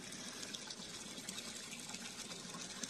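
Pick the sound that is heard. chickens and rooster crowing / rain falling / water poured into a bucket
water poured into a bucket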